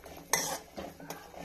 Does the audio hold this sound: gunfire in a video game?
no